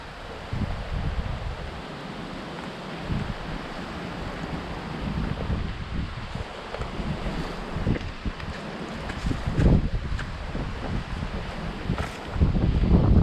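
Steady coastal wind on the North Carolina Outer Banks near a fishing pier, buffeting the microphone as a continuous loud rumble with stronger gusts toward the end, and no voices.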